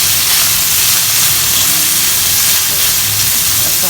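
Pancit noodles for Cebuano bam-i dropping into a hot pan with lechon, a loud steady sizzle and hiss of frying close by, continuous for a few seconds with no talking.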